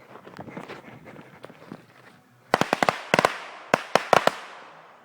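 Backyard fireworks going off: a soft crackling patter for the first half, then a burst of loud, sharp bangs and pops in quick irregular clusters, fairly close and with no talking.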